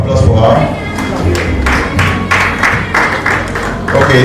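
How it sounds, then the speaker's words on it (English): Audience at an awards event in Lagos applauds loudly and steadily under crowd murmur and voices, the clapping continuous across the whole stretch. "please a round of applause for her."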